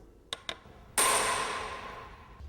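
An impact screwdriver is struck to loosen tight drain plugs on an outboard motor's lower unit: two light taps, then one sharp metallic blow that rings and fades over a second or so.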